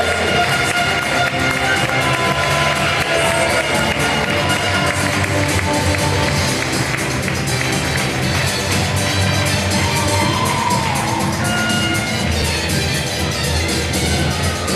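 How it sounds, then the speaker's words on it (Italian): Crowd in an indoor hall applauding both volleyball teams at a regional cup final, a steady dense clapping sustained evenly throughout with faint cheers mixed in. "E l'applauso per le due squadre."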